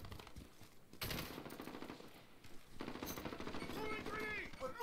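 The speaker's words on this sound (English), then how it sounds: "The submachine gun, that's dirty." Rapid submachine gun bursts from an MP5 in the Modern Warfare video game, loud and close, firing in clustered volleys with short gaps, with a voice talking over parts of the shooting.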